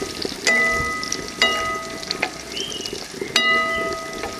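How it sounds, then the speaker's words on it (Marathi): Jackfruit is stirred with chillies into hot tempering in a pan. Steady close sizzling runs throughout, with a few sharp metallic clinks of a spoon against the pan and no voices. "आता छान मिक्स करून घ्यायचं आहे ह्याला।"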